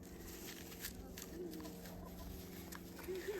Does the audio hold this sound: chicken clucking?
yes